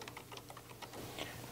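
Someone types on a computer keyboard while entering a search on a PC: a quick run of light, irregular key taps, close and fairly quiet, with no talking.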